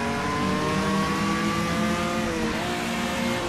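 A Puma GTB's engine in the Automobilista racing game revs loudly and continuously, its pitch climbing steadily with a brief dip as a gear changes, then rising again, with no talk over it.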